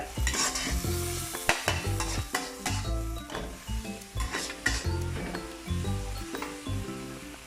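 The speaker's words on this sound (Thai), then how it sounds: "ผัดต่อไป" A spatula scrapes and clanks rhythmically against a wok while chicken with ginger sizzles steadily underneath, with sharp metallic knocks every second or so.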